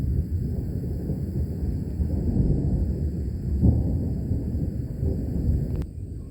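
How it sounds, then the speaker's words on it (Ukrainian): Low, rolling thunder rumbles through a long, steady roar during a dry thunderstorm in hot weather in Michigan, with some wind noise on the microphone and no talk. "За прогнозом зараз ніякого дощу немає, а блискавки і грім такий, що ой-ой-ой."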